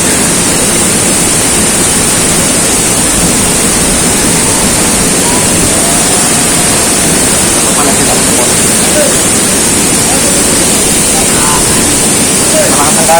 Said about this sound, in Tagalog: Lakas ang pwersa ng agos ng tubig.